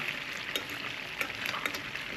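Chunks of venison sizzle in hot oil in a pan, a continuous fizzing crackle broken by occasional brighter pops, heard close up and alone.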